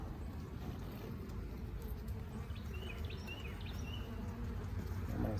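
Honey bees return to the hive laden with orange and yellow pollen, making a soft, continuous buzzing hum heard from nearby, with a few faint bird chirps mixed in.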